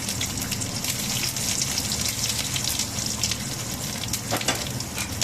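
Pepper, cumin and garlic frying in oil in a pan for coconut milk rasam, a steady dense sizzle throughout with small crackles popping above it.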